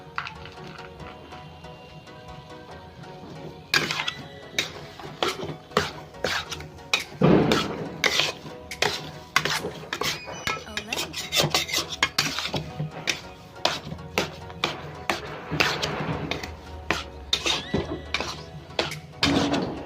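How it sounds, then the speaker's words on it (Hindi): Spoon stirring and scraping chana dal halwa with mawa and dry fruits in a metal pan, repeated irregular clinks and scrapes, close and fairly loud, no talking. "भून लिए इसमें ड्राई फ्रूट मिक्स कर दे रही हूँ।"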